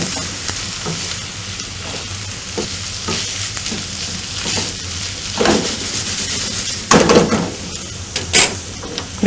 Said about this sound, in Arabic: الله محلى البصل هيك وهو يتقلى